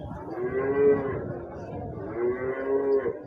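Cows, including large and pregnant ones, low in two drawn-out moos at a busy weekly livestock market, moderately close over a steady outdoor crowd murmur.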